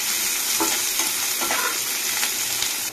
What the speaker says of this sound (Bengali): প্রথমে পেঁয়াজ কুচিটা দিয়ে দিলাম, কাঁচা লঙ্কাটা দিয়ে দিলাম, দিয়ে এটা একটু লালচে করে ভেজে নেব।